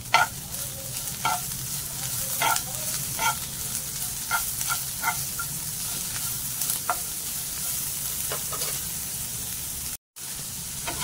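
Tomatoes and onions sautéing in a pan for potato bhaji, a steady close sizzle with repeated scraping stirs of a spatula throughout, one brief dropout near the end.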